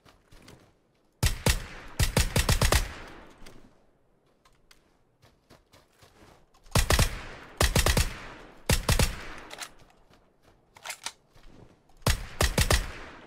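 Sharp bursts of gunfire from the PUBG video game crack out in several quick clusters separated by short pauses, loud and close with no talk over them.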